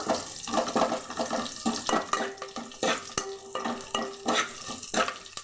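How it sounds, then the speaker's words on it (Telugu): Garlic frying in a pan, a bright crackling sizzle with irregular stirring scrapes and clatter throughout, close and steady. "ఫ్రై చేసుకోండి ఎల్లుకాయ బాగా వేగాలండి"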